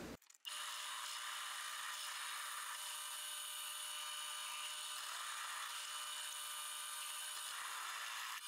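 A drill bores into a flattened part for a homemade Spider-Man web shooter prototype, giving a steady, loud, high whining drone that starts abruptly and runs without a break, with no talking.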